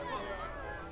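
Theme park guests yelling in the Planet Coaster video game, a distant, faint jumble of overlapping cries and chatter from a crowd of small voices.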